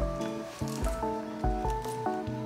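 A hard-boiled egg, cooled in cold water, has its shell cracked and peeled off by hand, giving repeated close, soft squishy crackles and crunches in an uneven rhythm, alone without talk.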